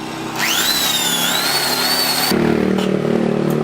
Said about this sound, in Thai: ลองสว่านก่อนนะครับ อันนี้เจาะให้ดูจริงนะ